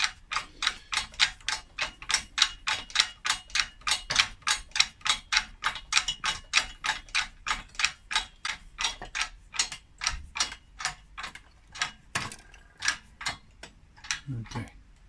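A 12 ton hydraulic shop press being pumped by hand while pressing a Volvo V50 wheel bearing, heard as a long, steady series of rhythmic mechanical clicking strokes, close and regular, slowing slightly near the end.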